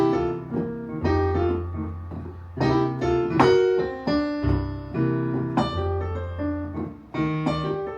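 Solo piano plays a phrased improvised line built on set-up and punchline repetition, with low chords under bright melodic runs, close and clear with no voices.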